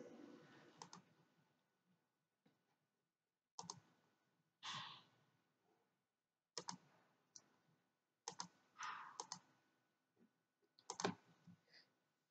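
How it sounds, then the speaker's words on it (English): Computer mouse clicking while setting up a Google Classroom, quiet scattered clicks in small clusters separated by pauses, heard alone in a very quiet room. "I'm clicking on that."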